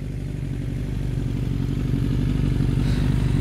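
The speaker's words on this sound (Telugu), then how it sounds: "అమ్మాయరా, స్కూటీ మీద ఇటే వస్తుంది." A scooter's engine draws closer on a road, its steady mid-pitched drone growing gradually louder and nearer with no voices over it.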